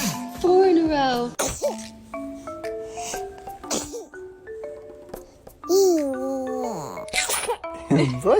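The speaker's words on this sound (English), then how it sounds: "Did you sneeze?" A baby sneezes several times in quick succession, small sharp bursts between cooing and fussing sounds, while an adult talks nearby.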